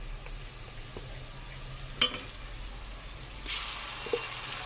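Garlic ginger paste hits golden frying onions in a pan, with a soft background sizzle and a few sharp hisses and clinks as it goes in.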